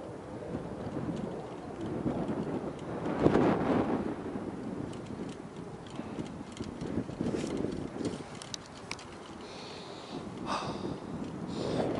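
A cold headwind roars steadily across the microphone while cycling uphill with no slipstream, a loud buffeting rush that swells and fades, with no voices.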